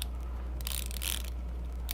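Unidirectional bezel on a Seiko SKX007 dive watch with an oyster bracelet, rotated by hand: a quick cluster of soft, close ratcheting clicks over a steady low hum.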